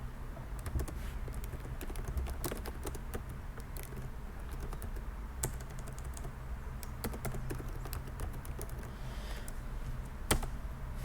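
Text for a birthday invitation is typed on a computer keyboard while working in Photoshop, producing soft, scattered key clicks in irregular bursts, quiet and close over a low background hum.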